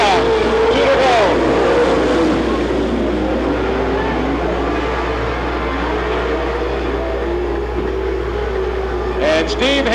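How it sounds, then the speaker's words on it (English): Race cars roar around the Watsonville, California oval during a weekly racing series event, loud and continuous engine noise with passing pulls, under a track announcer's commentary. "And Steve Hendren moving slowly on the racetrack as the leaders come by"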